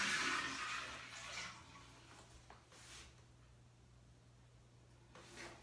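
Water is poured and splashes into a newly installed bathroom toilet to test it for leaks; a gurgling rush at the start fades into quiet trickles and soft knocks, with no talking.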